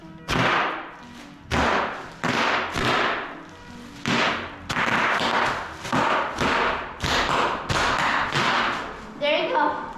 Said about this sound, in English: Here's the sound of jumping on bubbles.